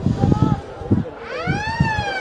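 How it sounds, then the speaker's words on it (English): A siren sounds across an Australian football ground in Freeling at the end of the first quarter, a rising and falling wail heard at a distance under the commentators' voices. "there's a siren to bring us to the end of a very entertaining first quarter"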